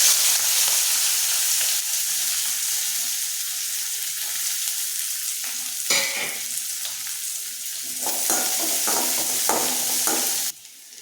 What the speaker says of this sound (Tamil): எண்ணெய் சூடாயிடுச்சு கடுகு உளுந்த பொறுத்து சேர்த்துக்கிறேன்